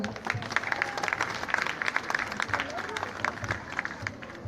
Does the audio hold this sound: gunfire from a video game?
no